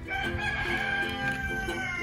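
Half Swedish Flower Hen chickens clucking steadily nearby, a continuous murmur of hen calls with no talking.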